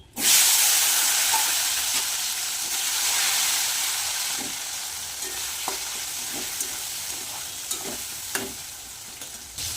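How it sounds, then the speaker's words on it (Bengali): Tomatoes frying in hot oil with whole cardamom, cinnamon, bay leaf and cumin, a loud initial hiss as they hit the pan, settling into a steady sizzle with intermittent pops and crackles. "টমেটো তো ভাজা বসিয়ে দিয়েছি"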